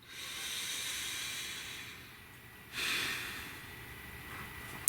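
A single soft breath, drawn in and let out as a faint airy hiss, heard close and alone with a short stronger puff near the middle.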